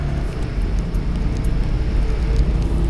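A car with a Subaru EJ engine accelerates to overtake slower traffic, giving a steady, loud low-end drone of engine and road noise that swells slightly, with no talking.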